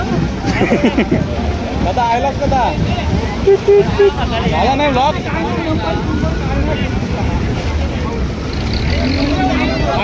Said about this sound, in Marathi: शिरांच्या होड्या पुढे पुढे चाललेल्या आहेत